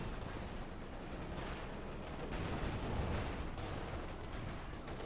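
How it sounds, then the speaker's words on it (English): Faint, dense battle noise from a Company of Heroes 2 match, with a StuG assault gun firing among rolling bursts of gunfire and distant explosions, a continuous low rumble throughout. "Stug opening up there."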